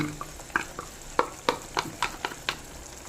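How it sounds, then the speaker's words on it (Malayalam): Cashew paste being stirred into a sizzling chicken curry, with a soft frying hiss under a series of distinct spoon taps and scrapes against the pan, close and without speech. "അണ്ടിപ്പരിപ്പ് നമ്മൾ കസനണ്ടി പേസ്റ്റാക്കിയത് ഒഴിച്ചെടുക്കാം"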